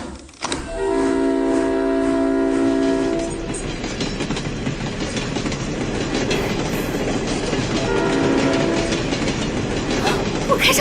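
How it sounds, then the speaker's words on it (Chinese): A steam train sounds a long tonal horn blast, then rumbles and clatters steadily along the rails, and the horn sounds again later, all loud and close. "我真的开上火车了！"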